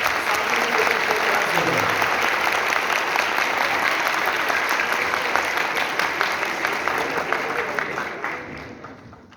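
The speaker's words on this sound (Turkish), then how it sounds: "kuvvetli alkışlarımızdan Sayın Selma Argon Hanımefendi'yi, Selma annemizi konferansını vermek üzere." An audience at a conference breaks into loud, sustained applause welcoming a speaker, the dense clapping holding steady before fading out.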